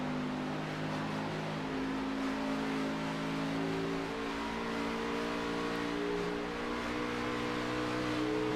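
Onboard engine sound of a race car in a sim racing game at the California 200 oval, a loud sustained high-revving drone with steady harmonic whine throughout, with no voices.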